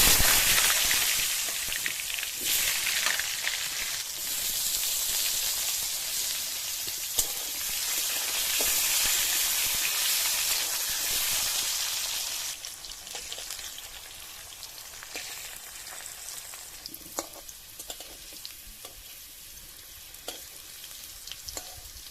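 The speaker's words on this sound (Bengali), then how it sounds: "এবার আলু ভেজে নেব।" Potatoes frying in hot oil in a pan over a village kitchen fire, a steady loud sizzle with occasional stirring clicks, settling into softer crackling and popping after about twelve seconds.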